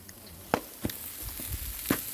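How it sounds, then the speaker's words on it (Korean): Beef tripe and heart sizzle over a fire burning in a tin can outdoors: a steady low hiss broken by a few sharp pops and crackles, fairly close. "곱창과 염통 지글지글 끓고 있습니다"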